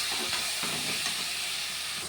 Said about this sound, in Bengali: এবারে আদা রসুন আর পাকা লঙ্কা পেস্টটা দিয়ে দিচ্ছি। এটাও নাড়াচাড়া করে ভাজা করে নেবো